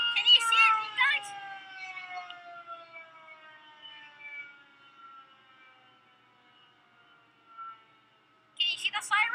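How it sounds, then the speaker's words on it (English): Tornado warning siren going off in a test, a long wail slowly sliding down in pitch and fading, with someone talking briefly at the start and again at the end. "that's the siren that's going off right now in the test"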